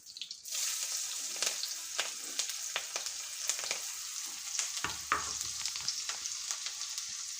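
Shallots, ginger and green chillies fry in hot oil with a bright, continuous sizzle, while repeated spatula strokes scrape and clack against the pan at an uneven rhythm, close up and without talk.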